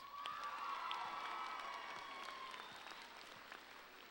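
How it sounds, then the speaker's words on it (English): Graduation audience at Concord High School's 2015 ceremony in the Concord Pavilion applauds steadily with scattered cheers and shouts, a dense, sustained wash of clapping from a large crowd. "give yourselves a round of applause"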